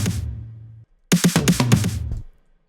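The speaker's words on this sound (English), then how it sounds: "combined with the tom sounds, you get this nice fill in" Melodic techno drum fill of electronic snare and tom hits, a rapid cluster of bright snappy strikes over a low sustained tone, moderately loud and with no one talking.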